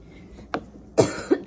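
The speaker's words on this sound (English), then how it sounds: "I was just coughing because something wasn't like in my throat" A short cough followed by a heavier, throaty cough with a clearing rasp, close by and otherwise quiet.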